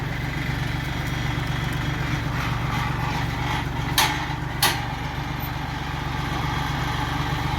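A Kubota L3608 tractor with a cassava digging disc plough runs close by at a steady idle, its low engine drone continuous throughout, with two brief sharp clanks partway through and no speech.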